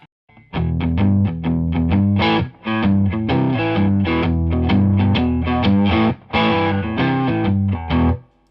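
A heavily distorted electric guitar through a Boss Blues Driver overdrive pedal with gain maxed plays loud, saturated chords in a choppy rhythm, with bright, buzzy overdrive and short gaps between phrases.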